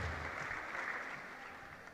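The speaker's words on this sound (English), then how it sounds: "Can we give him a round of applause?" A room full of staff applauding a guest at an end-of-year retreat and awards ceremony in steady, dense clapping that fades a little toward the end, heard from a distance.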